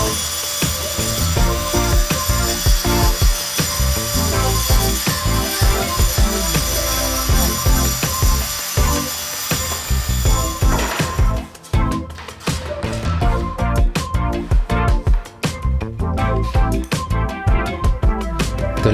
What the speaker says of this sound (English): I proceed to cut the 6 millimeters thick birch plywood